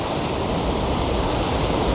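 Continuous heavy roar of ocean waves crashing against the shore, a dense unbroken surge heard close and loud with no voices over it.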